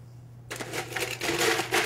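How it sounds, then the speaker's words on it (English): Ice cubes tumbling into a cocktail shaker for a Grasshopper cocktail, a sudden close clatter of hard cubes rattling and settling for over a second. "Take some ice."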